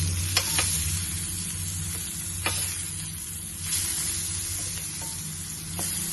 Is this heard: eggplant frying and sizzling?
yes